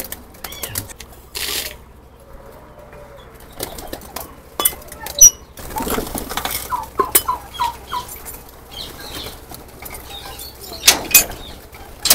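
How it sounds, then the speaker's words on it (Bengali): Pigeons at feeding time produce bursts of wing flapping and scattered pecking and scuffling, irregular and close, with quiet gaps between flurries; cooing is not clearly evident. "আমাদের এখানে এখন হচ্ছে কবুতরের খাবার দেওয়ার পালা"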